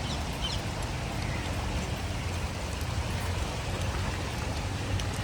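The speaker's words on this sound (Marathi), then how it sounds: "मोठे मोठे थेंब आहेत, मोठे मोठे थेंब आहेत." Heavy monsoon rain with big drops pours steadily, a loud, dense and unbroken hiss that fills the whole stretch, with no clear voices on top.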